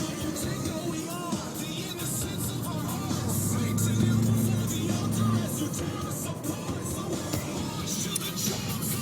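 Cars driving around on a street in Emmaus, a steady rumble of passing traffic with engines swelling briefly as one vehicle goes by, heard from nearby under continuous road noise and no clear speech.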